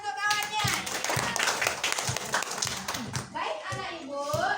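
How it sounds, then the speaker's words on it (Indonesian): Classroom children clap together for a classmate, a dense patter of small hands close by, mixed with kids' voices and chatter throughout. "tepuk tangan untuk kawannya"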